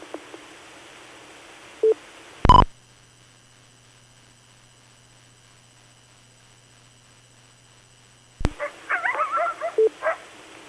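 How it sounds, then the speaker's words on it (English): Dogs bark over an amateur radio transmission on a swap net, with a couple of short barks and then a rapid burst of barking, set apart by a stretch of low electrical hum. "Yep, we got the dogs too."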